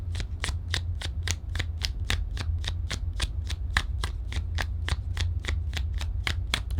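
Tarot cards being shuffled by hand, a steady run of crisp riffling flicks at an even rhythm, close up and alone with no talking.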